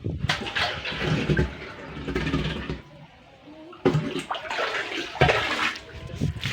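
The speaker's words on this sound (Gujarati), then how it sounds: "આપણે કુંડે આવી ગયા છે પાણી ભરવા હાટું" Water gushing into a village tank for watering buffaloes: loud rushing, splashing flow in two long bursts separated by a brief lull, with an engine hum underneath.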